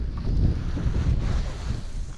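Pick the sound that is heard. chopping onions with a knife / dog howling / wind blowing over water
wind blowing over water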